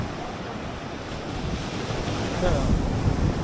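Surf rolling onto Marina Beach in Chennai, a steady broadband wash of waves mixed with gusty wind noise on the microphone, swelling slightly louder toward the end.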